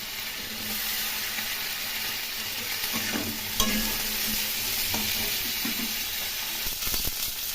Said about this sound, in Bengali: আলু এবং ফুলকপিগুলো এখন একটু ভালো করে ভেজে নেব।